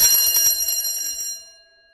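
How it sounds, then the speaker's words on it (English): A school bell rings from a distance, a bright, sustained metallic tone that lasts just over a second before decaying away into silence. "from far away, they heard a school bell ring"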